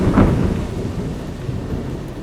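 Thunder rumbles low and loud over steady heavy rain at night in a storm, the roll swelling at the start and then settling into a continuous wash of falling rain.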